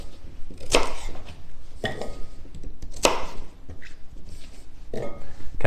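A knife cuts turnips into large pieces on a board, producing about four sharp, separate chops spaced roughly a second apart, close and fairly loud, with small handling knocks between them.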